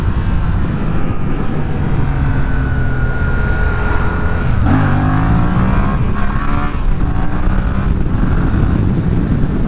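A Yamaha MT-07 motorcycle accelerates hard for a wheelie, its loud engine note rising in pitch partway through, heard up close with no talking.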